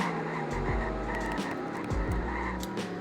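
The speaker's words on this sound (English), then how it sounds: "This car is just so fast." Fast supercar accelerating hard at high speed, around 190, with a loud continuous engine roar and a rising pitch that jumps at gear changes, recorded from close by.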